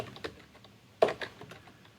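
Keys clack on a computer keyboard during a programming lesson: a few quiet, crisp taps, then a sharper cluster of quick keystrokes, close and otherwise quiet.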